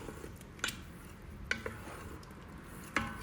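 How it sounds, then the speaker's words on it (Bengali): A metal ladle stirring cooked dal in an Instant Pot, a few soft scrapes with three sharper clinks against the pot at uneven gaps, quiet and close, with no talking. "আমি হাতা দিয়ে ভালোভাবে ডালটাকে মিশিয়ে নিচ্ছি।"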